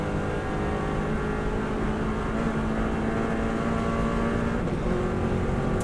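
A Subaru WRX STI holds fifth gear at speed on the Isle of Man TT road course, its engine a steady, loud, sustained drone with harmonic whine throughout, no words spoken.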